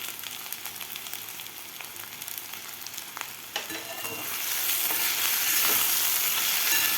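Salted potato slices fry in a pan while being stirred, a steady sizzle with soft scraping that grows louder and brighter in the second half.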